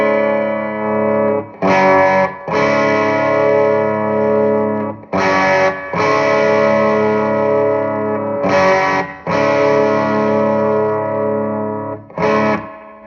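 Distorted electric guitar played through a Somnium Toneblender pedal, sustained chords ringing loud and full, broken by brief gaps and re-strikes about every few seconds.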